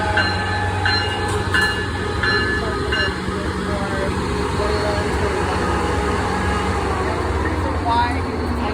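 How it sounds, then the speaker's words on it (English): Amtrak Pacific Surfliner 580, a southbound passenger train, approaches the Fullerton station. It makes a continuous loud, close rumble with rail noise, and a voice talks over it. "approaching in the Fullerton 10 minutes late today is 580 southbound Surfliner service"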